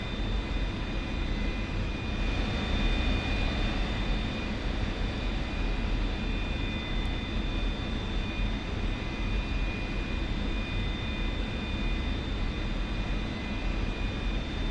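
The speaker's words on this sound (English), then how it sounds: "aircraft will lift off at 115 to 140 knots" An F-86F jet taking off in the DCS flight simulator: a steady, loud engine roar with a whining tone that holds constant for the full stretch, with no voices.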